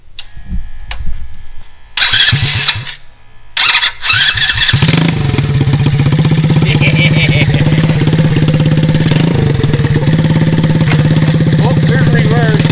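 A small engine on a rat rod wagon go-kart, likely an ATC 70 motor, sputters through a couple of start attempts, then catches and runs at a steady loud idle up close, with a voice briefly heard early on.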